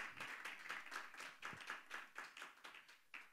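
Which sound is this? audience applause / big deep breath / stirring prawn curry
audience applause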